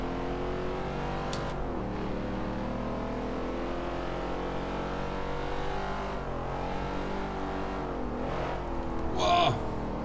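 A car being driven in the racing game Forza Horizon 2, its engine holding a steady, continuous drone throughout with slight shifts in pitch and no pauses, and a brief burst of added noise near the end.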